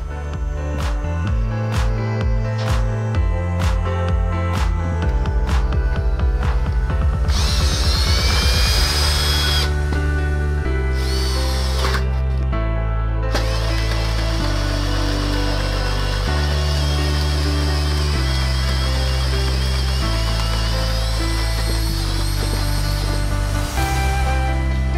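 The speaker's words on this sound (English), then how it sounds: "So now we'll drill a hole through the joist." A power drill with an auger bit whines and revs steadily, changing pitch in stages as it grinds through a wooden rim joist, loud and close, with no talking.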